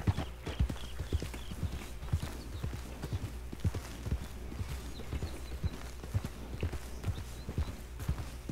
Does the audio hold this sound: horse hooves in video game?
yes